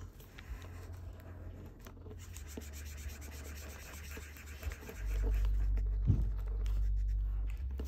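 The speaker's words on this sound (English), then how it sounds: "You don't even know what I'm drawing." Pencil or marker rubbing and scratching across paper during a drawing, with steady close scraping strokes that grow louder and heavier after the midpoint, with no talking.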